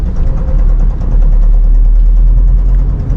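A car engine pulls steadily in second gear during a road driving lesson, a loud, continuous low rumble that holds even and close for the whole moment.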